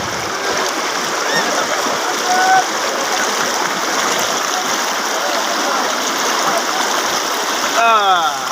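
Rushing river water flows steadily over the stones at Sada Pathor in Sylhet, a loud continuous wash that fills the whole stretch, with faint voices in the background.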